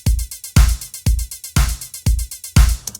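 Closed hi-hat programmed on every sixteenth note in Cubase 12, with a deeper kick-like thump on each beat, forming a steady, even electronic drum pattern that repeats about twice per second at loud volume.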